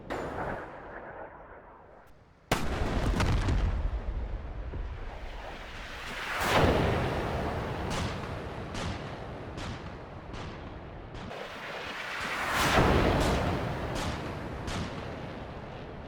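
A laser-guided missile fired from an Su-25T jet in the DCS flight simulator launches with a sudden loud roaring whoosh, then sustained rumbling and swelling booms from impact, with sharp cracks scattered throughout.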